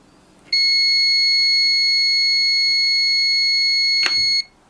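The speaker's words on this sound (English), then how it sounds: "it gives us an audio alarm" A multimeter's continuity alarm: a continuous high-pitched electronic beep tone sounding steadily for about four seconds, close and clear, with a faint click near the end; no speech.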